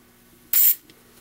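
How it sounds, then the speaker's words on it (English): Silicone spray squirted inside a DIY Rubik's cube: one short, sharp hissing burst of about a quarter second, loud and close, with quiet before and after. "take my silicone spray, and spray 3 squirts inside of Jig-a-Loo"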